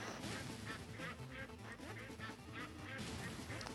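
Ducks quack repeatedly in the Legend of the Brofist video game, a steady run of short calls over busy game sound with a constant dense backdrop.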